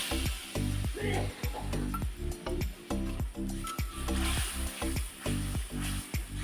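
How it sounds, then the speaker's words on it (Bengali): A spatula scrapes and knocks rhythmically against a wok of turmeric and chili powder spice paste over a continuous background sizzle, the strokes repeating steadily and close by. "এবার চলো এটাকে আমি কষাতে থাকি"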